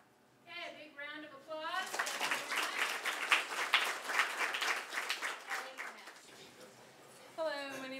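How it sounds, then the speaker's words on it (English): Audience applause follows a student statistics presentation at a university, steady broadband clapping filling about five seconds between brief stretches of speech before and after. "a big round of applause"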